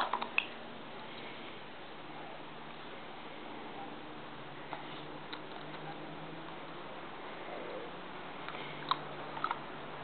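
A Welsh Terrier chews and bites on a soccer ball, producing soft squishy gnawing with scattered sharp ticks and clicks across a long, fairly quiet stretch.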